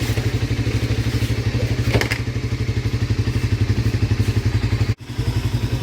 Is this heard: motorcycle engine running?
yes